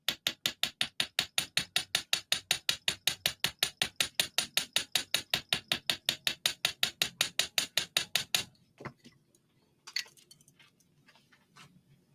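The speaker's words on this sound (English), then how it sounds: "Hammering will spread the wire and make it fit tighter." Rapid, steady hammer taps on jewelry wire, about five per second, loud and close for eight seconds, then stopping, followed by faint handling clicks and one softer knock.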